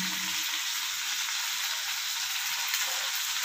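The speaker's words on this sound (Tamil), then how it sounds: "இது கண்ணாடி பதம் வர வரைக்கும் நம்ம வதக்கலாம்." Onions and tomatoes sautéing in hot oil for rajma gravy give a steady, bright sizzle that stays close and even throughout, with no voices over it.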